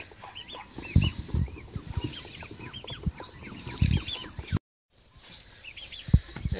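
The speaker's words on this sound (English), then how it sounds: "Here you can see our chickens, ducks," Chickens, ducks and geese in a village farmyard in rural Ukraine, a close, lively chorus of clucks, quacks and honks in overlapping bursts, with a short gap of silence near the end.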